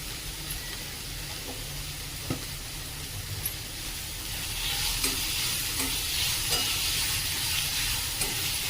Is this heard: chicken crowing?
no